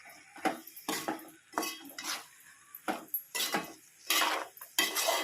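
A spoon scraping and clanking against a pot while tamarind jackfruit curry is stirred, irregular strokes repeating close by with no talking.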